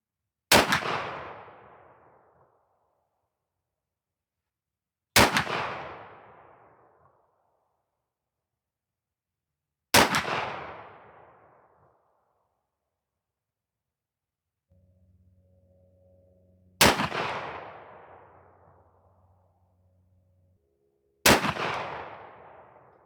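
Five loud, sharp shotgun blasts from a Stevens 301 20-gauge firing Federal TruBall 3-inch 3/4 oz slugs, spaced about five seconds apart, each with a long decaying outdoor echo; a faint low hum runs between the fourth and fifth shots.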